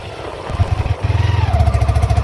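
A motorbike on the move, heard from a seat on the back, with its engine throbbing steadily and rising a little as it goes, loud and close.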